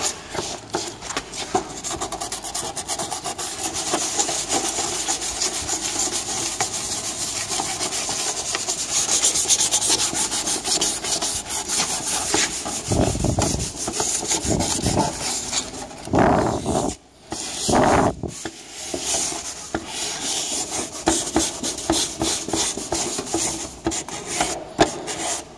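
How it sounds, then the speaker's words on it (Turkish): Sandpaper rasps back and forth over a plastic panel of a Honda CB150 motorcycle during paint prep, close and continuous scraping strokes with a few brief pauses and knocks, a faint idling engine in the background. "Tam bir plastik bir yüzey olduğu için alışıya zımpara atsak yeter herhalde."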